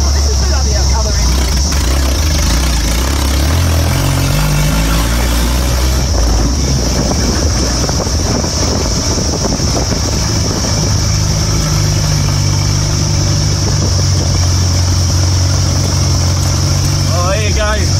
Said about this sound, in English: I hope you enjoyed that ride in the 1958 Land Rover.